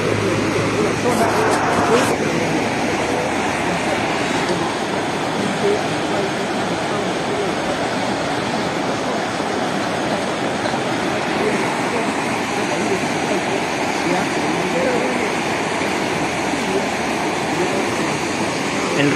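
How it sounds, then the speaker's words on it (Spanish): A swollen Chancay River in flood rushes at full volume, carrying stones and trees along; a steady, loud broadband roar of churning water runs throughout without pause. "El río ha aumentado su cauce por completo, como pueden observar, está lleno total, arrastrando piedras, árboles"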